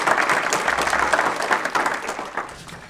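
A burst of applause from a room of people at a county board of education meeting, steady clapping that gradually thins and fades toward the end.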